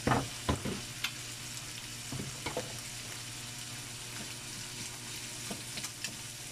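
Garlic and onions fry in a pan for a marinated pork dish with mushrooms and vegetables, giving a steady close sizzle broken by a few sharp knocks and scrapes of stirring near the start and at scattered moments.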